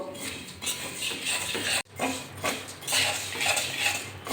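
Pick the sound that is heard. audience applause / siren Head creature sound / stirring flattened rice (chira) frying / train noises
stirring flattened rice (chira) frying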